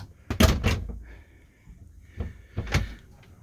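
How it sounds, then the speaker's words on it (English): Cabin door swings shut with a couple of close thuds and a rattle, followed by another solid knock a few seconds later in a quiet interior. "close the door"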